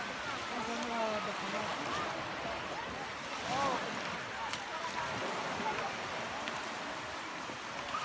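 Waves washing on Pelekas Beach in Corfu, a soft continuous surf wash heard from a distance with light wind noise, fairly faint and without talk.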